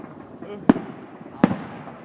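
Fireworks explode over Norman in two sharp, separate booms less than a second apart, each with a short echo, against a low murmur of background noise.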